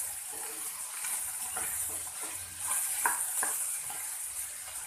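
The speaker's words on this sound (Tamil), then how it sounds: "நம்ம ஆனியன் வதக்கின உடனே நம்ம பாவக்காய் போட்டு நல்லா எண்ணெயில் ட்ரையாக வதக்கினா நல்லாயிருக்கும்" Bitter gourd and onions sauté in oil in a pan, giving a steady close sizzle with a few stirring scrapes throughout, no talking.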